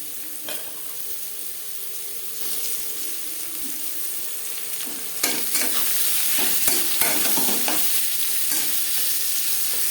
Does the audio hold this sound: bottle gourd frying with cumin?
yes